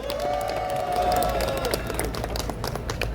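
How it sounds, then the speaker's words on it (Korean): An outdoor crowd at a citizens' rally in Daejeon claps continuously, with many hands patting at once and a voice briefly audible over the start. "무대 아래에서 수요토명으로 함께 해주고 계신 박현옥 선생님께도 큰 박수 부탁드립니다."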